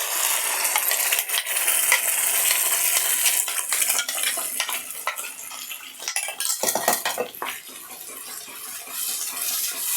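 A spoon stirs ground masala into frying onion, garlic and tomato for fish gravy, scraping the pan steadily while the mixture sizzles softly throughout, with no talking.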